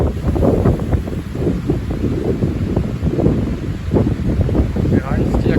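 Strong wind gusting above 80 km/h roars continuously and loudly across the microphone, a rough buffeting rumble that never lets up.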